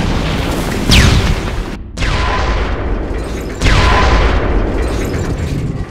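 Deep booming explosion effects depicting the Big Bang: three heavy, rumbling blasts in turn, each a loud broadband burst that decays slowly into a roaring rumble, with no voices.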